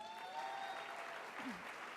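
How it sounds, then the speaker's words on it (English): Applause at a women's charity luncheon, a soft, steady patter of clapping from the room that sounds distant and faint throughout. "Can you give her a round of applause?"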